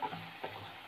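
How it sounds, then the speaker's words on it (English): Chopped onion fries in a pan for onion tomato masala, giving a steady low sizzle with a few soft scraping stirs, close by and moderately quiet, with no voices. "we have to fry this onion until it becomes light brown in color"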